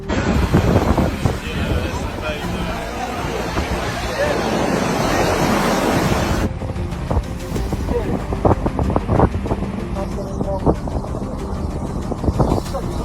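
Monster waves crash on ships in a storm. The surf roars loudly over heavy wind noise, with a broad churning wash that shifts partway through, and voices are heard beneath it.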